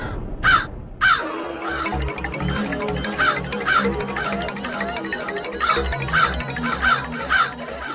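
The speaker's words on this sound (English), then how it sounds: "It may sound like the natural cawing of a crow" A crow in an animated folk tale caws repeatedly and loudly, a run of harsh calls spaced in an uneven rhythm over a low, pulsing musical backing.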